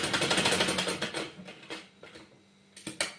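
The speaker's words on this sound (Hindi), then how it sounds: "देखिए इस तरह से हम इसके ऊपर से सिलाई लेंगे।" A sewing machine stitching a shirt, with a rapid rhythmic mechanical clatter of the needle that runs steadily, then slows into separate bursts before a final short run, close and moderately loud, with no talk.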